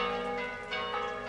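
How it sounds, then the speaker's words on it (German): Church bells ring out over a village, a steady sustained peal with rich overlapping tones and no voices, heard moderately loud and continuous. "Jemand läutet die Kirchenglocken."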